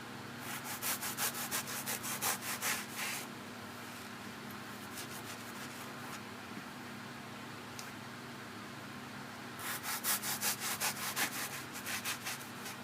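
A car wash sponge being cut, giving two bursts of rapid rhythmic rasping strokes close by, separated by a few seconds of quiet handling over a steady background hum.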